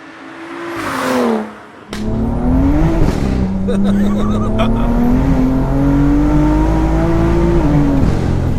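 A 625 bhp big-turbo BMW M2 with an N55 engine accelerates hard, its engine note rising in a loud sustained pull after a brief lift, with a voice briefly heard over it.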